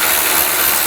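An Audi S4 of the 2006-2009 generation has a nut snugged down with a hand ratchet, a continuous close, loud rasp of fast clicking pawl teeth with no voices over it.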